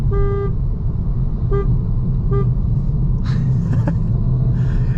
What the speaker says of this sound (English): Typical Vauxhall horn.